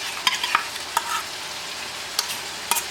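A spoon scrapes and stirs in a pot as whisked yogurt is mixed into chicken masala with tomatoes and chillies for chicken chana pulao, giving scattered close clinks and scrapes over a soft sizzle.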